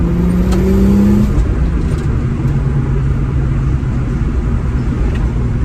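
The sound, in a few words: car engine revving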